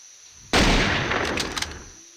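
A single sniper rifle shot in Jurassic Park Hunter Legends: one sudden, loud, close crack that rolls into a long booming tail and fades over about a second and a half, with no talking.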